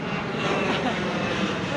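A steady, broadband roar of an airplane passing overhead in a city setting in Pasay City, Manila, continuous and fairly loud throughout with no distinct peaks.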